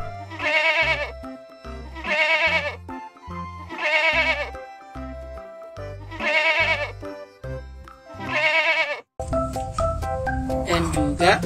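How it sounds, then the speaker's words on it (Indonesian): Five wavering, nasal goat bleats from a video game repeat at steady intervals, loud and close, followed by a brief electronic jingle. "Kambing."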